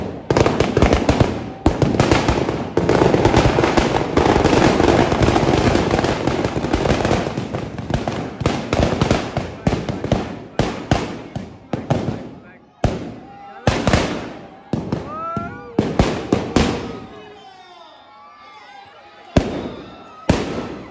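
Firecrackers bursting inside a burning Ravan effigy at a Dussehra celebration in a Subhash Nagar market, a dense loud crackling barrage that thins into scattered sharp pops and bangs, with crowd voices and shouting underneath.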